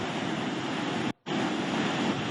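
Phalguni river in Mangaluru overflowing after heavy rain, floodwater rushing in a loud, steady broadband roar that cuts out briefly for a moment midway.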